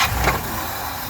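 A 1959 Ford Galaxie Town Sedan engine cranking and catching under the open hood with the air cleaner removed, a brief loud burst settling into a steady close rumble.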